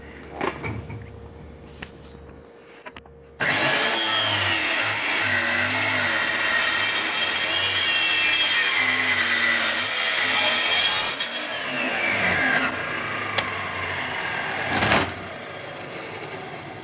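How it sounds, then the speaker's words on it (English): An aluminum baseplate is cut with a machining tool, a steady loud grinding, rubbing drone that starts abruptly after a few quiet seconds and runs continuously to the end with slight swells. "it's difficult to machine aluminum like this, because it'll actually gum up the cutting tool"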